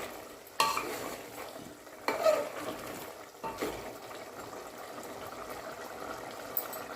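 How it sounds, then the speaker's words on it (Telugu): Chicken curry with chukka kura (sorrel leaves) stirred in a pot, with a few distinct scraping strokes of a spoon over a low simmering sizzle, heard up close. "ఇప్పుడు మూత తీసి కలుపుకోవాలి"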